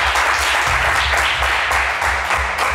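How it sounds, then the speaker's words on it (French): A studio audience at a televised game show applauds loudly and continuously, dense clapping filling the whole span without a break. "le public peut vous applaudir une dernière fois pour vous encourager"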